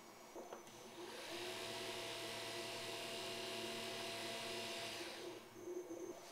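A quiet, steady electric whir from an Umbratek actuator motor as it drives to a new position, lasting several seconds at an even pitch before it stops.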